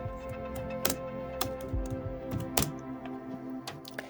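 Keys clatter on a computer keyboard as Python code is typed, a quiet run of uneven clicks and taps with a few sharper strikes and no talking.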